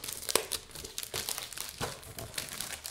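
Paper sheets crinkle and rustle up close in quick irregular bursts, handled and shuffled continuously without any talking.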